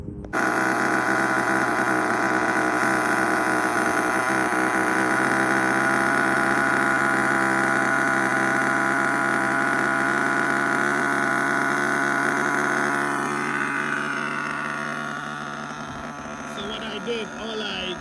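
An HPI Savage GTXL-6 RC monster truck with an F5.9 nitro engine idling during break-in, a steady buzzing drone that holds evenly for a long stretch, then wavers and fades toward the end.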